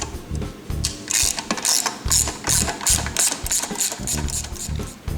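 A ratchet wrench backs a hidden bolt out from under the trim tab on a Yamaha F250 outboard lower unit during water pump impeller work, giving a loud, steady run of rapid clicking strokes close up with no talking.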